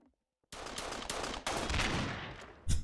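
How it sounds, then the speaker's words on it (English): Video game gunfire from an action shooter in a Source-engine game, rapid bursts of shots that fill the clip after a brief silence, loud and close, with a sharp final burst near the end. "I just heard the gunfire and instinctively turned around and shot"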